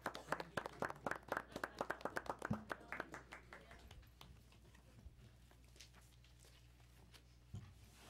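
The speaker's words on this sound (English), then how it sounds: "Let's give them a round of applause." Scattered applause at a school board meeting, a handful of people clapping for a few seconds before it thins out into faint room murmur and a couple of stray taps.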